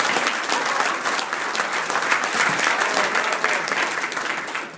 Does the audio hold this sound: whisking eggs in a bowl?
no